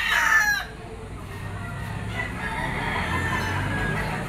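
Young roosters crowing at a poultry auction market in Lipa, one short crow up front followed by a quieter murmur of background bird and crowd noise.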